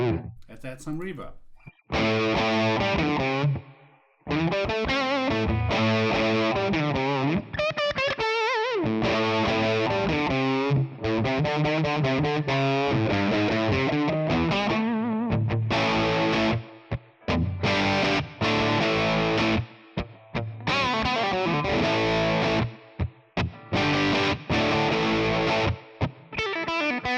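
An electric guitar runs through a ToneX ONE amp model with reverb added, playing loud distorted phrases and held notes whose tails ring on smoothly through short pauses.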